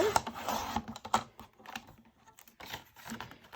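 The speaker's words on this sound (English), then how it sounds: "I'm just going to go ahead and cut this at 8 1/4" Paper being cut to 8 1/4 inches for a Carta Bella Halloween market mini album folio, giving quick scraping and slicing sounds with short crisp bursts, close and fairly quiet, with no talk.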